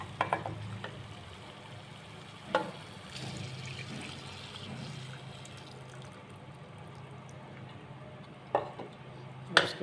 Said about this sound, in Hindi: अब हमने इसमें से जो यखनी निकाली थी वो इसमें ऐड कर देते हैं ताकि इसकी थोड़ी सी ग्रेवी बन जाए।